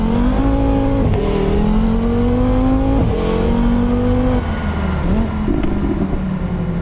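Engine of a 2020 Audi RS3 Sedan in a driving video game mod with traffic, revving steadily through gear changes with rising and dropping pitch, loud and continuous with no talk.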